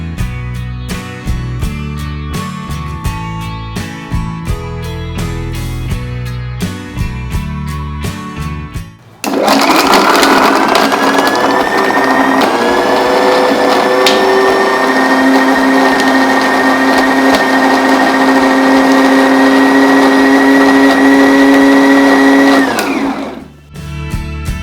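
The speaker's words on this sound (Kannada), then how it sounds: "ಇದನ್ನು ಮಿಕ್ಸರ್ ಮಾಡ್ಕೊಳ್ಳೋಣ." A kitchen mixer grinder blends raw mango with jaggery, starting abruptly after quiet background music and running loud and steady for about fifteen seconds before cutting off.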